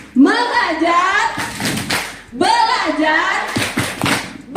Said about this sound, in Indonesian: Oke, kita coba ya. Tepuk PMM.